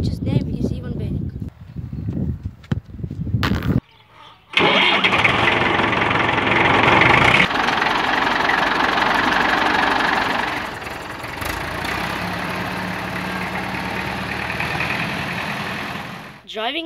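A tractor engine cranks after some knocking and handling sounds, catches and roars loudly, then settles into a steady close idle that drops to a lower, even rumble toward the end.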